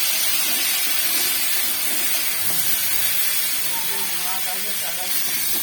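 Constant loud hiss of taro and potato frying in hot oil fills the clip, with faint indistinct sounds underneath.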